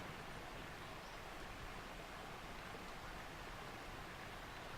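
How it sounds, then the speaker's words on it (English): A mighty waterfall in the video game Memoria roars as a steady, dense broadband rush, constant and even throughout with no pauses or other sounds. "the noise of the mighty waterfall"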